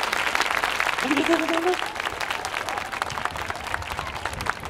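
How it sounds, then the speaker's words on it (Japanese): Audience applause at the Kurosaki Yosakoi festival main venue, sustained dense clapping from a large crowd after a children's troupe's grand-prize dance, with a brief spoken thank-you near the start and an announcer's voice over it. "もう一度大きな拍手でお送りください。"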